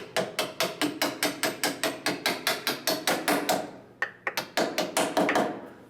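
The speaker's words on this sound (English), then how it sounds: "We got to pull this nut off, and then we're ready to take that out." A ratchet clicks rapidly in steady bursts as a nut is spun off a rod end on an off-road vehicle, close and loud, with a brief pause and a few irregular clicks before the rhythm resumes.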